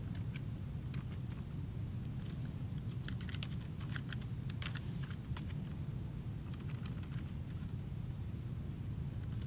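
Typing on a computer keyboard in a lecture setting, a quiet run of irregular key clicks in bursts over a steady hiss and low room hum, with no voices.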